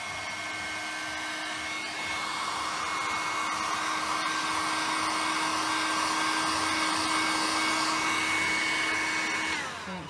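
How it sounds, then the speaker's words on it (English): A 110-volt heat gun blowing hot air onto flexible WoodUBend trim for a vintage dresser, a steady close whirring hiss with a faint tonal whine, rising slightly after switching on and cutting off near the end. "We're using a heat gun because we use 110 voltage in here, so it's safer."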